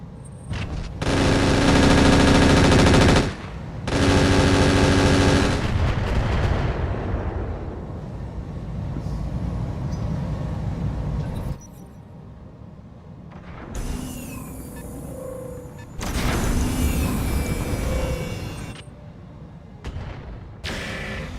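Mech weapons in the RogueTech battle game fire in heavy blasts, with two long thunderous bursts at the start, a rumbling decay, then a further pair of loud volleys, with no talk.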